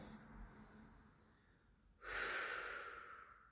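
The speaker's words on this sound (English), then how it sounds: "we're going to take 4 more deep breaths" Deep breathing in a flexibility class: a quiet, low intake followed by a strong, breathy exhale rushing out, close to the microphone with no talk.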